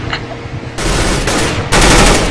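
Negev machine gun firing in the game Counter-Strike: Global Offensive, loud close sustained bursts of rapid automatic fire that grow denser, with no speech over it.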